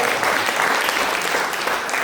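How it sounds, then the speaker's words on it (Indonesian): A church retreat congregation applauds together, a brief, dense wash of clapping from many hands, steady and fairly close throughout. "Beri tepuk tangan bagi alam yang luar biasa."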